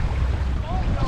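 Wind buffets a kayak out on open water, a steady, close, low roaring rush over a short moment.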